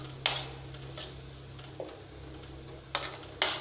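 A spoon stirs masala sautéing in oil in a pan for potato gravy, giving a few sharp metallic scrapes and clinks over a faint sizzle and a low steady hum.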